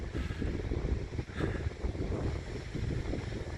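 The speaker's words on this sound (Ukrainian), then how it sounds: "холодний вітер" Strong, cold wind on the ocean coast near Shediac, New Brunswick, buffets the microphone in a constant loud rushing roar, with gusty swells throughout and no voices.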